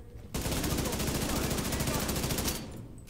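Automatic gunfire in The Division 2, a loud sustained burst of rapid shots lasting a couple of seconds before cutting off abruptly.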